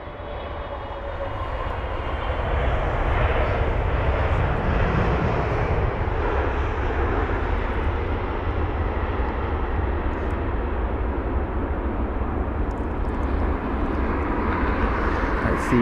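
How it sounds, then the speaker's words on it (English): Qatar Cargo Boeing 777 freighter landing on Heathrow runway 27 right, its jet engines building to a loud sustained roar that holds steady with broadband rushing noise, no talking. "That's the 777 freighter for you."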